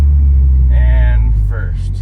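A Mitsubishi Evo rumbles close by as it downshifts toward second gear, a deep engine drone with a short blip in revs, while a voice talks over it.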